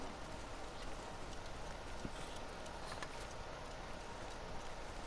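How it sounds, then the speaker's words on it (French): Horse hooves clip-clop in Ghost of Tsushima as a steady walking beat under a constant wash of outdoor game ambience, with no talking. "ce cheval m'a suivi"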